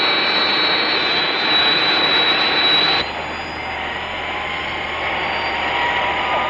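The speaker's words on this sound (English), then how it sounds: "There must be an aircraft in the vicinity." Jet aircraft roaring steadily nearby, a loud continuous whine with a sharp drop in level partway through, then a lower sustained rumble as it continues.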